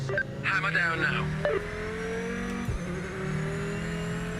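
A race car in the Project Motor Racing sim accelerates hard, its engine note climbing steadily and holding a sustained drone, with a brief shift in pitch partway through. A voice talks over the start.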